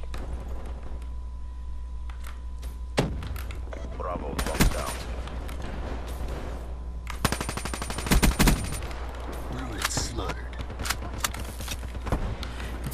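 Rapid automatic gunfire from a Weevil rifle in a Black Ops 3 multiplayer Domination match on the Exodus map, coming in several bursts over a steady background hum.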